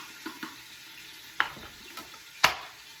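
A cup of onions hits a hot pot where meat was just browned, giving a soft steady sizzle with a few sharp clinks and scrapes of stirring, fairly quiet and close, with no talking.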